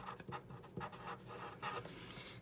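A pen writing on paper as someone jots down words while filling out a self-esteem shield craft, a close, steady run of scratchy strokes with brief pauses between words.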